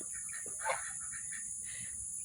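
Hens clucking inside a backyard coop where pullets and cockerels are kept, with soft, scattered calls that rise in a few short bursts over a steady high-pitched hiss.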